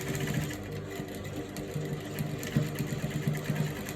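A sewing machine stitches the center back seam of a front twist dress in steady bursts of rapid mechanical whirring, close and fairly quiet, with short pauses between runs.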